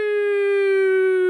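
A voice imitates a tsunami warning siren with a single sustained, pure, wailing "woo" tone that holds steady and loud from start to finish.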